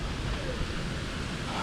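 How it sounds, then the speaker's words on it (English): Water falls steadily outside the National Museum of the American Indian, a dense, constant rushing wash with no breaks. It stays loud and close throughout. "As you enjoy the water falling from the National Museum of the American Indian"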